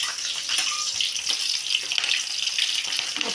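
Onion and chilies hit hot oil in a pan while fish curry cooks, giving a loud, close, continuous sizzling hiss with small crackles and no speech.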